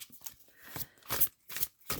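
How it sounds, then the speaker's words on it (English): A large oracle card deck is shuffled by hand at an odd angle, giving a series of soft, close, uneven papery slides and flicks in quiet surroundings. "This deck is rather large, so I kind of hold it at an odd angle to shuffle."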